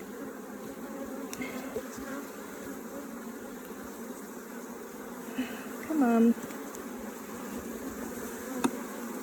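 Bees buzzing inside a donated top bar hive, a steady dense drone of many insects close by, with one brief louder fly-past whine and a short spoken phrase.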